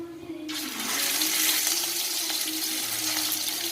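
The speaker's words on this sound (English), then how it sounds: "I will one by one start frying the fish from the skin side" A loud, steady sizzle of fish frying skin-side down in hot oil erupts suddenly and keeps crackling continuously, close and with no talking.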